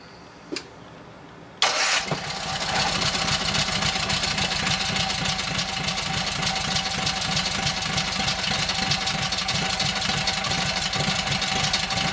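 A Kohler KT17 twin-cylinder engine running on its first start after a lost-governor repair, with a couple of clicks, then cranking that catches into a loud, steady, close rattling run with a fast pulsing beat and no talking.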